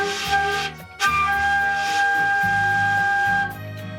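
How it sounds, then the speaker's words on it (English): High G blown on a beginner Yamaha YFL-22 student flute, a breathy, airy tone that wavers and briefly breaks before settling, sustained for several seconds close up with no talking. "High G sounds like this"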